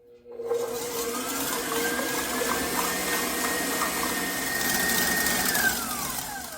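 An electric mixer whirs as it beats egg whites with salt and vanilla, a continuous close motor drone with a rising pitch that shifts as the whites thicken, no talking.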